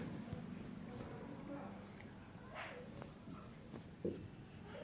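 Chalk or marker scratches across a board during a probability lesson, soft strokes and taps heard faintly beneath a voice.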